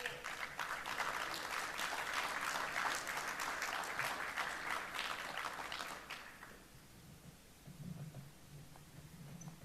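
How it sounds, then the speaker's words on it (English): Audience applause for a panel at a military symposium and exposition, a dense crowd of clapping lasting about six seconds before fading into quiet room noise with faint low murmurs. "let's give them a round of applause"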